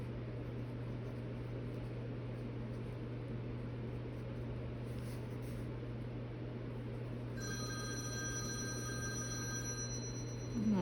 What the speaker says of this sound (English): that's my husband's phone